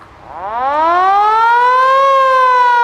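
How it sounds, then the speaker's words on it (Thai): A loud 7-inch truck siren winds up from a low growl to a steady, piercing wail that holds at full volume. "อันนี้จะเป็นหวอหวอของเรา หวอขนาด7นิ้วนะฮะ"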